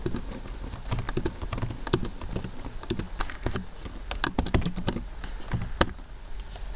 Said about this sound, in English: And we'll start typing in our data.